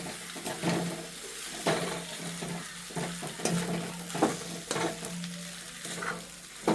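Chow mein noodles stirred with noodle masala in a hot pan, a steady sizzle broken by repeated scraping, tossing strokes at an uneven rhythm, close and moderately loud.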